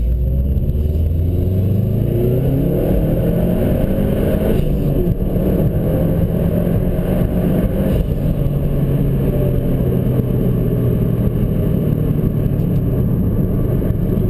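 A 2011 Subaru STI with a COBB Accessport tune, its engine droning loudly and steadily from inside the cabin during spirited driving, pitch rising and falling through repeated accelerations and gear changes.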